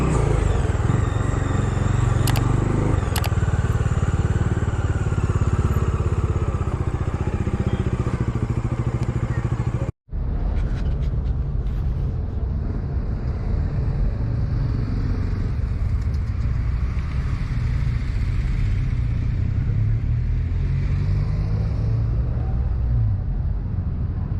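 A motorcycle engine drones steadily while riding, with wind rumble and road noise throughout, briefly cutting out midway before continuing.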